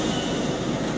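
A train running on rails, heard as a loud, continuous rumble and rattle of wheels close by, with no talking.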